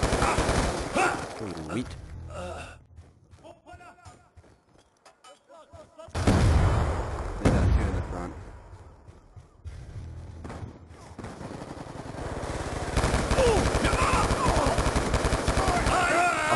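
An M27 rifle fires in select-fire mode during a Hardpoint match in a video game. Loud bursts of automatic fire come in repeated volleys with short gaps, mixed with game effects and a player talking.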